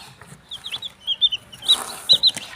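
Young Sweater Dom White Kelso chicks chirp repeatedly in quick, high-pitched peeps, close by and fairly loud, scattered irregularly across a few seconds.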